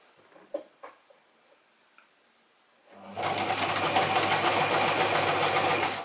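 A Gritzner 1002 or Pfaff 307 sewing machine stitches through three layers of thin denim, starting after a few faint clicks and running as a loud, steady, close whirring hum for about three seconds to the end.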